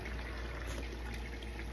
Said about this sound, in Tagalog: Kumukulo ka. Hindi ko pa pinatay yung flame.